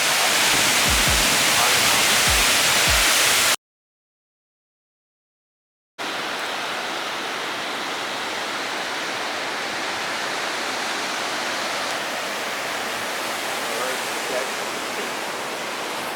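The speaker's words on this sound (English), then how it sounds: "There's the waterfall right there." A waterfall pours out a loud, continuous broadband rush that drops out for a couple of seconds and then returns just as steady. A few low thumps come early on.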